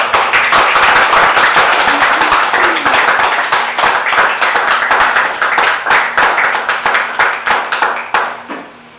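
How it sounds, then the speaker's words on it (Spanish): A church congregation claps during a Spanish-language sermon, with dense, steady, loud clapping that runs the whole time and then thins out toward the end. "Bríndale un aplauso al Señor."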